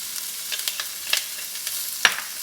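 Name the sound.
sliced onions frying in hot olive oil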